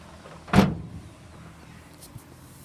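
A 2011 Chevrolet Silverado extended cab truck door shuts with one loud, close thud, followed by quiet ambience and a faint click.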